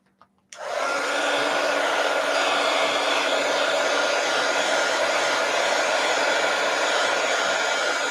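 Hair dryer switched on abruptly after a brief quiet moment, blowing to dry a journal page, then holding a loud, steady whirring hiss close by for the rest of the time.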